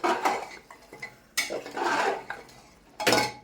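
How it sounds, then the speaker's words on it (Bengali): Mutton curry with potatoes stirred in a pot, the spoon scraping and clinking against the metal in a few close, uneven bursts with short pauses between them. "একটু নাড়াচাড়া করে নিই।"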